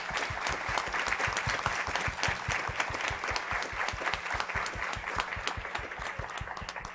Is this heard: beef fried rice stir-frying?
no